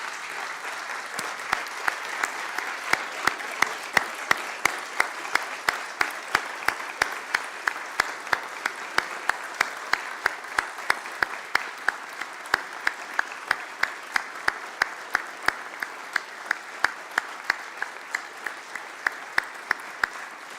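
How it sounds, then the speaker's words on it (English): An audience applauds Trooper Smith at a State of the State address after he receives the Governor's Award for heroism and bravery. The dense, steady clapping fills about twenty seconds, loud and sustained, with no talking over it. "let's give a round of applause to Trooper Smith."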